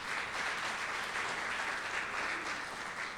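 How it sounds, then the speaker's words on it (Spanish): A church congregation at a Sunday service applauding, a steady, even wash of clapping from many hands, fairly quiet and distant, with no voices over it. "démosle un aplauso al Señor si lo quiere aplaudir"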